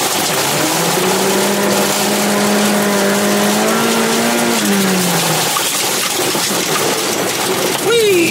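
A Toyota AW11 rallycross car's engine accelerating on gravel, a loud close drone that climbs in pitch and then drops away, with rough broadband road and gravel noise throughout.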